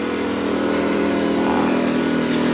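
Portable generator running steadily beside a 2018 Heartland Mallard M28 travel trailer, a loud continuous engine drone with no change in pitch and no voices.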